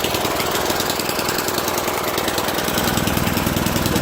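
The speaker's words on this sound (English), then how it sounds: "the tiller's back and running again this year" A garden tiller's small engine runs steadily at close range, loud, with a rapid chugging, rattling pulse and no pause.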